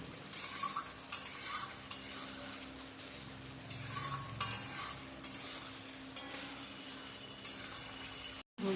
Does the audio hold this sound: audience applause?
no